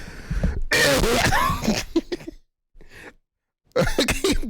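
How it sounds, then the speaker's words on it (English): A person clears their throat loudly and close up in a few harsh bursts, then some short rasping sounds, a brief pause and another burst of throat noise. "clear my throat right quick"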